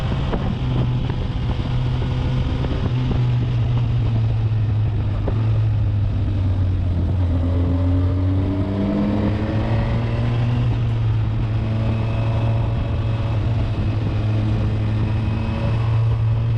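A Honda Hornet 1000SP motorcycle engine drones steadily on a mountain ride, its pitch rising and falling with gear changes and throttle while heavy wind rushes across the microphone throughout.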